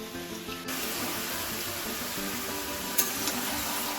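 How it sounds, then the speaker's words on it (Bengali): Potatoes frying in hot oil for a chicken dish, a steady broad sizzle that runs the whole time at an even level, with one brief clink partway through. "তেলটা গরম হয়ে গেছে, আর মাংসের জন্য আলুটাও ভাজা করতে বসিয়ে দিয়েছি।"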